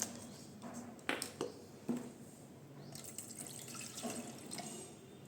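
Water trickles and splashes as it is poured into a soil sample, with a few louder splashes and drips in a quiet room, fairly faint overall.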